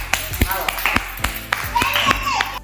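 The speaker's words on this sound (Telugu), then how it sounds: "క్లాప్స్ కొట్టుండ అక్షరం" A child claps hands during an indoor family game, a run of sharp, separate claps at an uneven pace, with voices talking and calling out over and between them.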